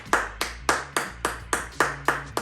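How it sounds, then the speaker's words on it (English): A single pair of hands claps slowly and evenly, about eight sharp close claps in a steady rhythm with no crowd around them, during a casual talk about owning a business. "Round of applause for that."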